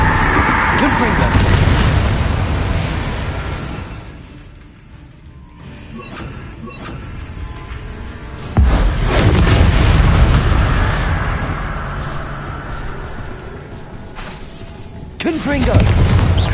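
Confringo blasting spell explosions in the Hogwarts Legacy video game, heavy booming blasts with rumbling, crackling debris, loud and close, rising in waves, mixed with spoken spell calls.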